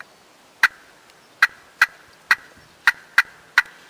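Seven sharp, abrupt clucks from a turkey call worked with a striker, quick and slightly uneven like an excited hen's cuts, loud and close.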